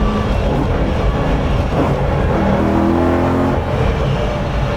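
A BMW E92 M3 track car on the Nürburgring Nordschleife drones steadily from inside the cabin, its engine pitch shifting briefly midway as gears change, loud and continuous throughout.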